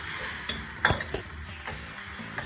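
Stir fry sizzling in a pan with a steady frying hiss, broken by a few sharp scraping stirs and utensil clatters, close up with no talk.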